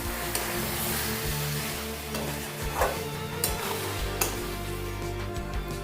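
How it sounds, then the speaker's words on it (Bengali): Bengali chicken kosha sizzles and is stirred in a pan with added garam masala powder, a continuous close frying hiss broken by occasional spatula scrapes and knocks. "দিয়ে 2 মিনিট একটু কষিয়ে নেব।"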